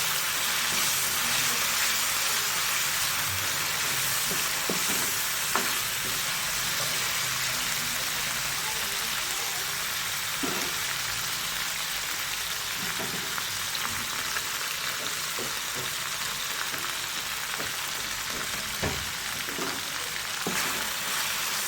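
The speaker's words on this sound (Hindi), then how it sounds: "ये प्याज गोल्डन ब्राउन हो रही है" Onions frying in a pan for khatte baingan, sizzling steadily and hissing at close range for the whole stretch, with a few faint clinks of stirring and no talking.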